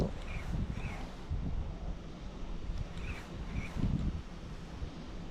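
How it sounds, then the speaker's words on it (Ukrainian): Wind gusts buffet the microphone outdoors by cold water on an autumn day, a rough rumbling roar that swells and eases in several bursts. "Трошки піднявся вітер"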